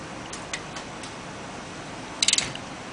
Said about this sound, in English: Just felt the crush washer